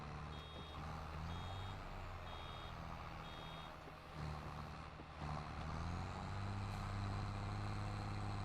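Farm tractor pulling a baler reverses on the Erlengrat map in Farming Simulator, a steady series of evenly spaced reversing beeps sounding over a continuous low engine drone, with no talking.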